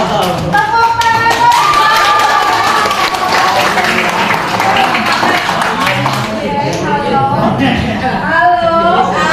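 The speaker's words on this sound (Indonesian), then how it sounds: "Tepuk tangan." Loud audience clapping rings out at a talk on artificial intelligence ethics. Rapid claps are layered under excited voices and laughter throughout.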